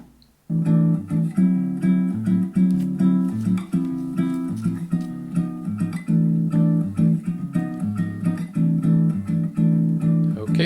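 Samba guitar track based on a song: steady syncopated plucked chords and bass notes in a bright Brazilian rhythm, played continuously and loud with no voices.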